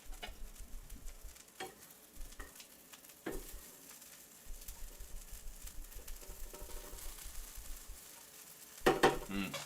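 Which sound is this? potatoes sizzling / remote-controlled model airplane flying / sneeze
potatoes sizzling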